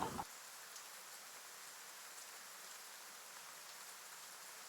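Steady rain falls as an even, soft hiss of drops on a surface, continuous and moderately distant, after a brief sound at the very start.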